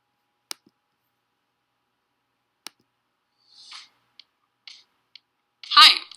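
Two sharp, isolated computer mouse clicks stand out against silence, then a few short bursts of speech follow with another click between them.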